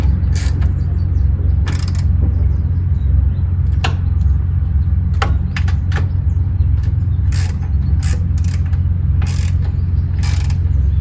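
Ratchet tightening nut rivets on a Champion radiator during an off-road high clearance radiator install, a few bursts of quick clicking pawl strokes close up over a steady low engine-like hum.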